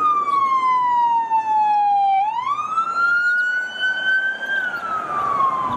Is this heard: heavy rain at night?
no